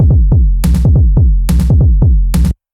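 Clean electronic techno tom hits programmed in Ableton, before any distortion, play as a fast rhythmic pattern of pitched, decaying thumps with bright crashes layered on some beats, loud and dry, then stopping abruptly.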